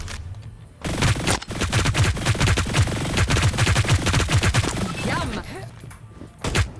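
In the video game Hyper Scape, a weapon fires at close range in a long, loud, rapid automatic burst lasting several seconds, followed by a couple of isolated shots.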